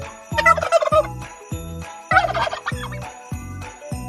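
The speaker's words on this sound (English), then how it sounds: "Turkey." A turkey gobbles in two loud, rapid, warbling bursts with a shorter trailing call, heard up close over a steady thumping musical beat.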